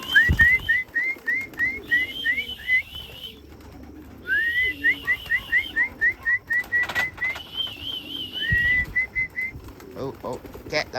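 Someone whistles a rapid series of short, rising chirps in repeated bursts to call racing pigeons into the loft, with brief rustles and knocks between the calls.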